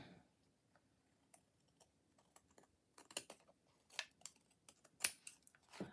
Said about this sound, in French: j'ai juste à prendre mes ciseaux